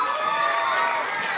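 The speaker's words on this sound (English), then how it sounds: "Let's give a round of applause to all of our contestants." Audience applause for third-grade contestants at an annual school math competition, a steady, dense wash of clapping with crowd noise that holds evenly throughout.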